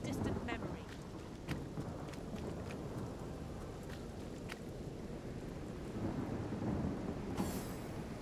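Rain and thunder in the fantasy role-playing game Divinity: Original Sin, a steady low rumble of rainfall and storm with occasional sharp cracks, fairly faint and continuous throughout.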